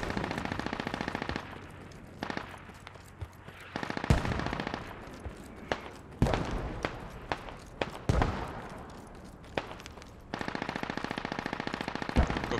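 Gunfire in the video game Squad on a Fallujah map: bursts of rapid automatic fire with sharp single shots scattered between them, loud and close, with a short lull in the middle and no talk.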